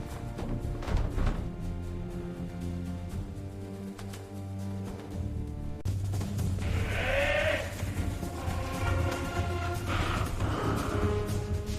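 Sheep bleating on a farm at night, with livestock noise over a low steady rumble; the calls come in a few loud, wavering bursts in the second half.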